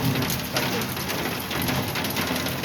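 Steady, dense rain falls on surfaces close by, a continuous hiss with many small drops. It is loud and constant throughout, with no voices over it.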